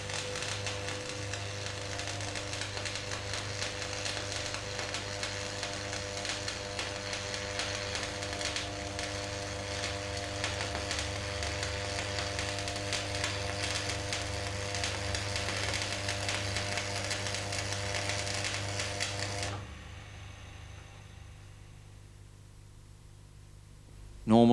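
Manual metal arc stick welding along a joint, a continuous crackling, buzzing arc with steady hum that runs evenly before dropping away abruptly near the end.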